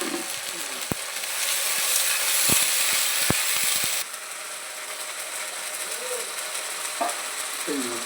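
Mutton masala in a hot pan bursts into a loud, continuous sizzling hiss after water goes in, with a few sharp clicks of a spoon against the pan scattered through it.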